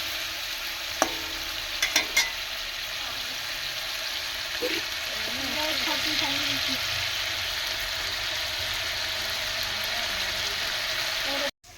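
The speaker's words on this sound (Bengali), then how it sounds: "আমি এখানে মশলাটা ভেজে নিচ্ছি" Spice masala fries in a pan for Tripura-style country chicken curry, making a steady, moderate sizzle with a few sharp clatters of utensils early on and a faint voice murmuring in the background midway.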